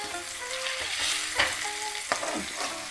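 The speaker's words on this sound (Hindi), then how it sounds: "अब हम इसमें ऐड करेंगे 2 टमाटर। टमाटर के गलने तक हम कुक करेंगे" Onions and two tomatoes fry in a pan over a low gas flame, giving a close, steady sizzle broken by a few sharp stirring scrapes, with no voices.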